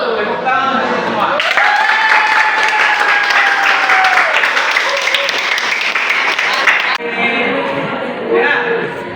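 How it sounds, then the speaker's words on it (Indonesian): A classroom of students claps for everyone, with dense, loud applause lasting several seconds, then it tapers off while a voice speaks over the end. "Tepuk tangan untuk semua"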